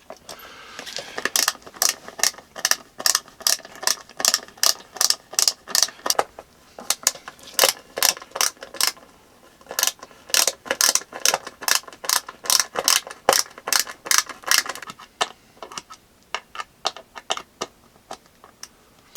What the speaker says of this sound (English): So let's put the rest of these screws in here and continue with the assembly